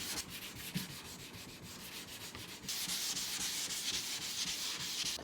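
Close, steady sanding on a car body panel during dent repair, continuous abrasive rubbing that grows louder and brighter partway through, with no voices.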